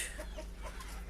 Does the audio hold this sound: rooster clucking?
yes